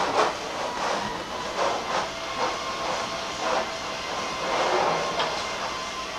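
A passing train makes a steady, broad hiss and rumble with faint rhythmic clatter, heard continuously and fairly near.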